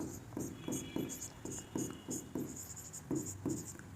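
Chalk or marker strokes on a board during a biology lecture, a steady run of short scratchy taps and scrapes in an irregular rhythm, close and fairly quiet, with no talking over them.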